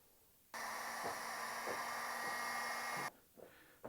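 A heat gun blows steadily for a few seconds, a loud, even whoosh shrinking heat-shrink tubing over a wire connection on a 1965 Mustang air-conditioning install. It cuts off abruptly, and a few soft handling clicks follow.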